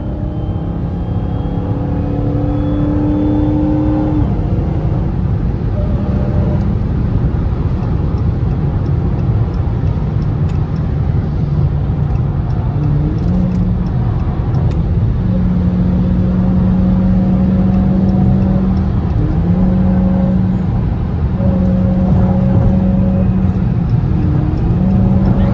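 Dodge Hellcat and Trackhawk engines drone and rev loudly at a crowded Chicago gas station meetup, a dense sustained roar with shifting engine pitches throughout.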